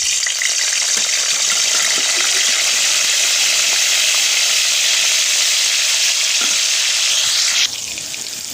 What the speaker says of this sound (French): je vais passer à la friture de mes morceaux de viande pré-cuite